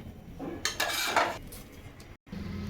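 Puffed rice chivda is stirred in a pan, a brief burst of dry rustling and metallic scraping close by, with low background hum and no talking.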